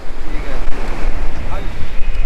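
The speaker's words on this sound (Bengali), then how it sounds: "সকালের পুরীর সমুদ্র দারুণ লাগছে" Ocean waves wash onto Puri beach in the morning, a loud, steady roar of surf with wind noise throughout.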